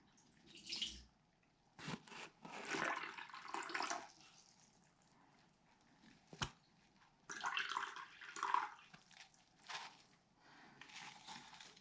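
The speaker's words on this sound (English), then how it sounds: "I'm going to pour the solution and slowly." Copper sulfate solution poured slowly, giving intermittent splashing and trickling bursts of liquid with brief pauses and a sharp click partway through, fairly close and moderately loud.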